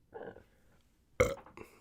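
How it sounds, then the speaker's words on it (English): A single loud, close burp from a man on a sports podcast, a short guttural belch following a brief muffled murmur, with nothing else around it. "Sorry, that burp just came out."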